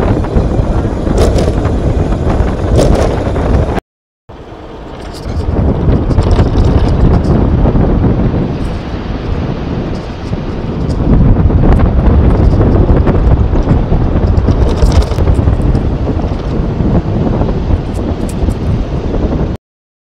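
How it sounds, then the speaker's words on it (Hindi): Strong gusting wind on a mountain road between Munsiyari and Thal in Uttarakhand, a loud, continuous roar buffeting the microphone, rising and falling in surges with a brief dropout early on. "हवा चल रही है तेज़ आंधी टाइप की"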